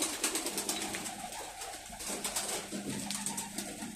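Newly hatched homing pigeon chicks coo softly and repeatedly in a loft, close by, over a steady background hiss.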